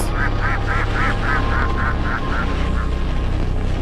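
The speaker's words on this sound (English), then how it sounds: "Where's that other duck at, though?" A duck in the horror game Anatidaephobia quacks in a rapid string of about ten even calls over a loud, steady droning background, then falls quiet.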